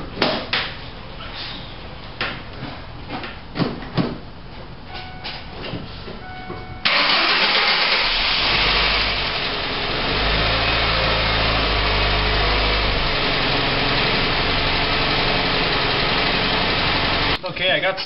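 A Ford Focus that has just had a cylinder head swap cranks and catches after some clanking, then settles into a loud, steady idle close by that runs to the end.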